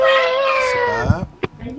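A cat meows in a long, drawn-out call with a falling pitch, loud and close, followed by a few shorter sounds, heard during an online English lesson.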